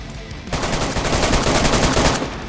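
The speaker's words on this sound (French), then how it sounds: "J'ai mis quelques balles." Rapid gunfire from the video game DayZ bursts in after a brief quiet start and keeps going as a dense, loud volley of repeated shots for about two seconds, with no talking.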